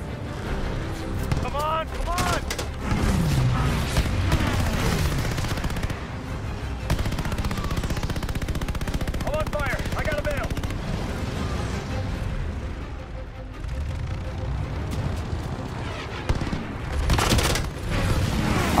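Repeated gunfire and explosive booms in the World War II shooter Call of Duty Vanguard, bursts of shots and heavy blasts throughout, with people talking over the battle.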